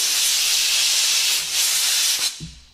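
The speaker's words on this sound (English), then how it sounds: "So we're gonna get the blow gun. Blow that rust out of there" An air blow gun blasts rust out of a John Deere engine cylinder in a steady, loud hiss that holds for over two seconds, then cuts off abruptly with a brief clunk.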